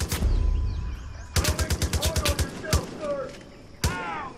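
Rapid bursts of gunfire in Far Cry 5, a dense volley of evenly spaced shots followed by scattered single reports and a sharp final blast, loud and close with game sounds between.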